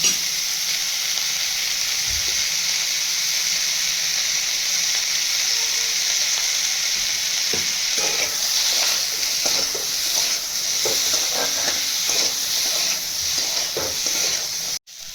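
Tomatoes, cashews and green chillies sizzle loudly and continuously in a hot pan, a bright crackling hiss with occasional stirring scrapes, close up and without speech.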